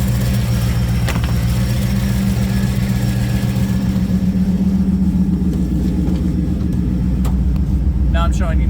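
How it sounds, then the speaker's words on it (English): An OBD1 GM F-body car engine idles with its oil pressure sending unit bypassed. It makes a steady, loud, low rumble close by, and a voice is heard over it. "My car's still running."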